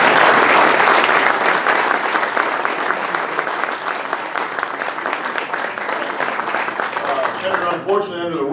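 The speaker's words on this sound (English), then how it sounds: "Let's give a round of applause." An audience at a legislative breakfast applauds a senator with loud, dense clapping that holds steady for several seconds. A voice begins talking over it as it winds down.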